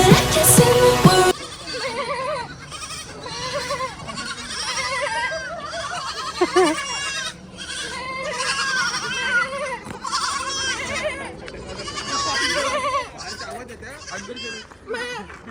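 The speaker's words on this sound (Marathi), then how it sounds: "आमच्या बरोबर पण एक बकरी आली आहे." A goat bleats repeatedly outdoors, its wavering cries rising and falling amid nearby people chatting and talking over it.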